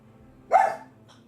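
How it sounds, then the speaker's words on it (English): A single short dog bark rings out over a quiet, faint electrical hum, followed by a tiny softer yip. "My dog Wheezy."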